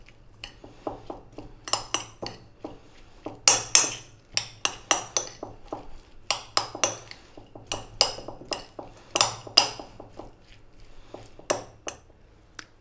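Egg salad mixed with mayonnaise and mustard in a bowl, heard as a run of quick, close, sharp clinks and knocks of a utensil against the dish, irregular and rhythmic over several seconds, with no voices.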